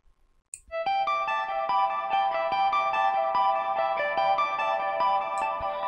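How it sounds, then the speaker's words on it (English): A synthesized guitar arpeggio for melodic bass music plays as bright, plucked notes, repeating in a quick, even pattern. It enters after a brief pause and rings on clearly, alone. "the guitar arp sounds like this"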